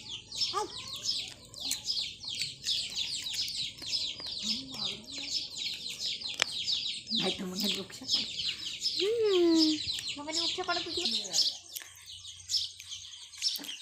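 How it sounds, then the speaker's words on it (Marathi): A dense chorus of high, rapid peeping from many small chicken chicks, continuous throughout, with occasional lower clucks mixed in nearby. "पिल्ले कोंबडीचे पिल्ले"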